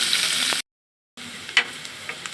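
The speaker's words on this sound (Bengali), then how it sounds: "এবার আমি দিয়ে দিব দুটি তেজপাতা কুচানো পেঁয়াজ দিয়ে ভালোভাবে ভেজে নিব" Bay leaves and chopped onion frying in hot oil for a rohu fish bhuna, giving a steady close sizzle that breaks off briefly and resumes with a few sharper crackles.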